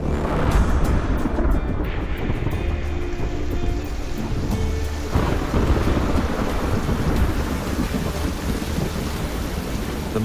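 A monsoon thunderstorm pours heavy, continuous rain with deep rumbling thunder rolling underneath, loud and unbroken throughout.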